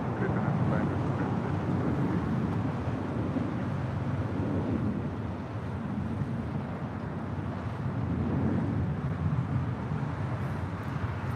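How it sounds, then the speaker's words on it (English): A Delta Airlines Boeing 767 takes off from the north side of LAX, a steady, broad jet roar mixed with wind buffeting, with people talking over it. "Delta Airlines flight 763 heading to JFK. 767, isn't that with our captain friend? Taking off."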